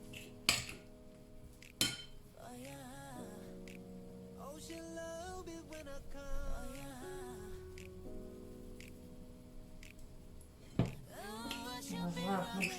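A tablespoon scraping and clinking against a bowl of falafel batter, a few sharp knocks standing out from soft scooping under background music, with faint talk.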